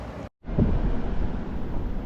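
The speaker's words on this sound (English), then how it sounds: "It's a little bit windy this morning." Morning wind buffeting a microphone on a third-floor hotel balcony at an oceanfront beach hotel in Fort Lauderdale: a loud, continuous low roar and rumble after a short cutoff, with no voices.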